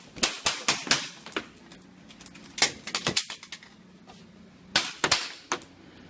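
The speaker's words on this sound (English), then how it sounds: "here's some video of me being shot with Simunitions with this helmet on" Simunition training rounds striking a Spartan training helmet, a string of sharp cracking impacts arriving in irregular bursts and clusters, close and loud over a quiet background.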